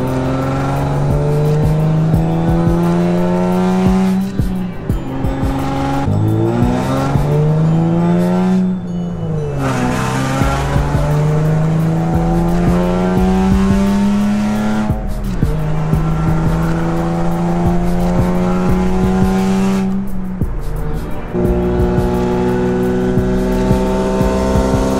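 A car engine drones steadily throughout, its pitch rising and falling with acceleration and gear changes, loud and close, no voices.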